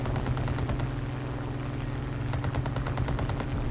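Rapid, continuous machine gun fire from a tank in the War Thunder Mobile video game, a loud, dense rattle over a low engine rumble that grows sharper and more distinct toward the end.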